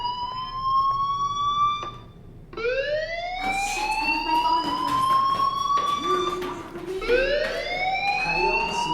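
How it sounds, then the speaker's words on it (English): A fire alarm from the video game Life is Strange wails in rising electronic sweeps that repeat every few seconds, loud and shrill through a school hallway, with muffled background noise and no speech. "do you hear that fire alarm?"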